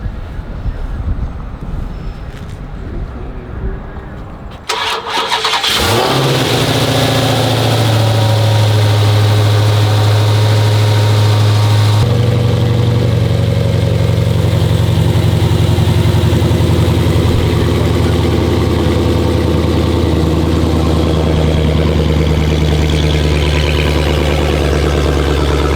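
A Dodge Challenger Hellcat Redeye's supercharged engine fires up with a sharp roar after a few seconds of quiet, then settles into a loud, deep, rumbling idle that stays steady and close.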